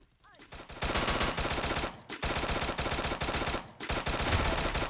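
Gunfire in the game Free Fire: sustained rapid automatic bursts, dense and loud, running almost continuously with two brief gaps between volleys.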